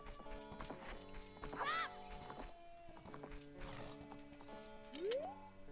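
Horse in the video game Zelda: Ocarina of Time, with a brief whinny and hoof clip-clops amid tonal game music and sound effects, moderately quiet.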